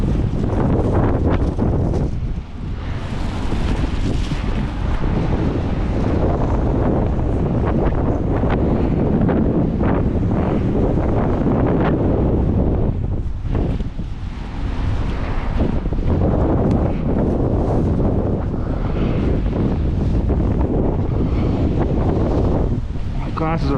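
Strong, gusting high winds roar and buffet outdoors on an icy walk, loud and continuous with brief lulls, like wind hammering a microphone.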